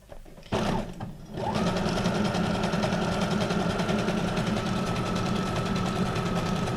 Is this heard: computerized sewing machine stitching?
yes